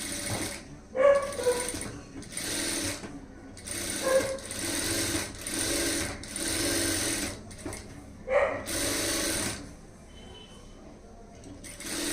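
A sewing machine stitches a high-neck blouse in repeated bursts of rapid whirring, each lasting about a second, with short pauses between and a voice speaking in the background.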